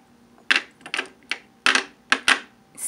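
A heavy perfume bottle handled and tapped, giving about seven sharp hard clicks and knocks at uneven intervals, close and distinct against a quiet background.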